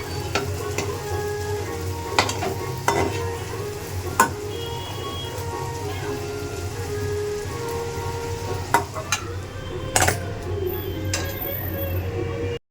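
Luchi puffs in hot oil in a home kitchen, giving a continuous loud sizzle close by with scattered sharp pops and crackles throughout.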